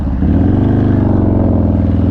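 A 177-horsepower Zipper's Performance Harley-Davidson 128 Street Glide with a Burns exhaust and 74mm throttle body revs close by, a loud, steady, deep pulsing rumble that lasts throughout without talk.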